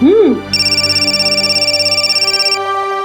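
A phone rings with a steady, rapid electronic warble, a buzzing trill of evenly pulsing tones that runs loud and close for about two seconds, preceded by a brief high vocal sound.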